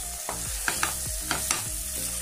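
Chicken frying with masala in a pan, a steady sizzle under a few scraping stirs of a spoon, close and fairly quiet, with no voices.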